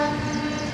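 A train passes along a railway track, producing a steady, loud rumble with sustained tonal ringing throughout the brief moment, with no talk heard.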